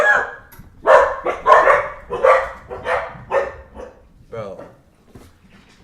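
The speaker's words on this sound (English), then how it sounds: "These dogs are tweaking." Dogs bark in a run of sharp, fairly close bursts, about eight in quick succession, then trail off into quieter yips, with a brief spoken word heard among them.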